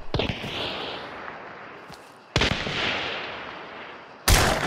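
Gunshots in the video game Hunt: Showdown, three loud sharp blasts spaced a couple of seconds apart, each trailing into a long echoing decay.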